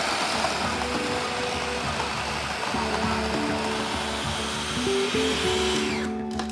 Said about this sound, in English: So you need to do this in a food processor.